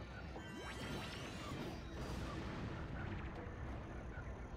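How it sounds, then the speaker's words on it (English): Shooting flying lurkers with Yellow Eco in the Jak and Daxter video game, a dense, continuous wash of blasts, crashes and zapping effects with thin streaks of higher tones over it, no talk. "So we go into the goggles and start shooting some flying lurkers."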